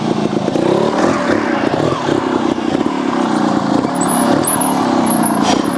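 A GasGas TXT Racing 300 trials motorcycle engine, loud and close, revs and blips through throttle changes with a steady clattering mechanical edge, and no voices.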